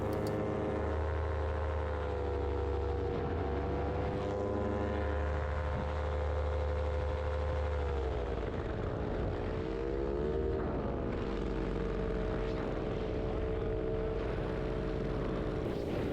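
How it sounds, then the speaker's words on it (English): Small airplane engine with a muffler cracked in half, a loud continuous droning roar with a rough edge, shifting in pitch partway through as the engine changes, close and steady with no talking. "See, my muffler cracked in half, and you can hear it right now."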